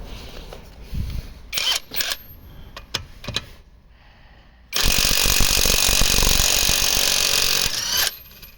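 A Revolt 350 cordless impact wrench loosens a wheel bolt. Scattered clicks and handling knocks come first, then a loud, sustained hammering burr lasts about three seconds before cutting off, all close up.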